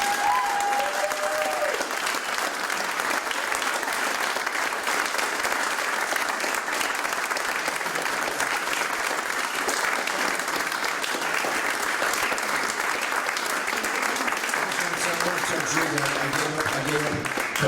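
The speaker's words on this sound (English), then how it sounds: "Please give Joe another round of applause" Audience at an old Jewish comedians event applauding for Joe, sustained loud clapping from a full crowd that continues throughout, with faint voices surfacing near the end.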